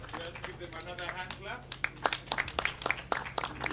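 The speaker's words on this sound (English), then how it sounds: "Give them another hand" Scattered hand claps from an audience at a plenary session of a professional conference, a light, uneven patter of applause that starts under a speaker's voice and stays fairly faint.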